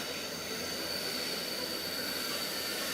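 A TT class diesel-electric locomotive with a V16 engine of 4,300 horsepower gives off a steady, continuous mechanical drone with a faint high whine, heard alone.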